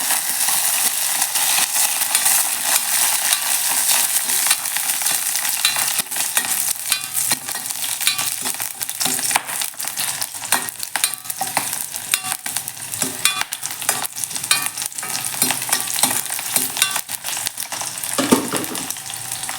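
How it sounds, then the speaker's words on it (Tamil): Ginger, garlic and green chillies fry in a pan of hot oil, giving a dense, constant sizzle with frequent scraping and stirring clatter throughout, close and unaccompanied by voices. "இஞ்சி பூண்டு பச்சை மிளகா போட்டு வதக்கணும்"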